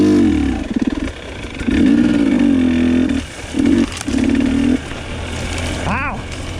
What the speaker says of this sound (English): Grunt it up with the two-stroke